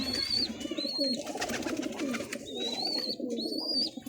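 Kept hobby pigeons in Sargodha coo repeatedly in soft, rolling phrases. Thin high whistling tones and light chirps sound over a steady background murmur throughout.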